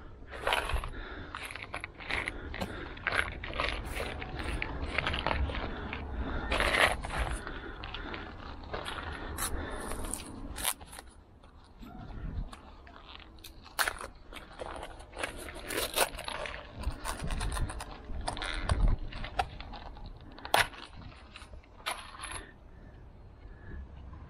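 Screws are driven into a wooden cabinet for an up-flow filter, a long run of close, busy scraping, creaking and metallic clicking that keeps up with small pauses throughout.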